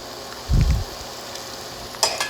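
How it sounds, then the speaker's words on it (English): Curry paste dropped by the tablespoon into a pot for Thai curry, giving a brief low plop and sizzle, followed by a quieter hiss and a second short clatter near the end. "now I'm going to go ahead and add my curry paste by the tablespoon"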